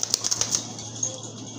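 Pigeons offered as a pair for sale give a quick burst of wing flaps and calls, sharp repeated beats in the first half second, then quieter cooing and rustling nearby.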